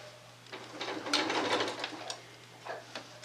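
A sewing machine stitching pieced curved fabric runs in a short burst, a quick mechanical whirr that rises and fades, with a few light taps and a faint steady hum underneath.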